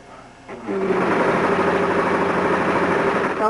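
A domestic sewing machine runs steadily while stitching couch fabric at home, its motor whirring in a loud, continuous hum with a rapid needle rhythm. It starts after a short quieter lead-in and carries on unbroken to the end.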